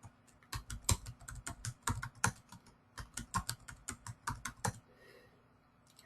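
Someone types a password on a computer keyboard, a fast irregular run of crisp key clicks that stops for a moment near the end, with no voice.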